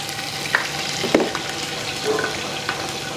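Ginger garlic paste hits a hot pan for a mutton kaima curry, giving a steady soft sizzle with a few light clinks and stirring scrapes, close and moderately loud, no talking.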